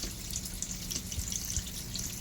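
Water poured onto aquarium rocks, a soft continuous trickle with small splashes and drips, close and quiet, no talk.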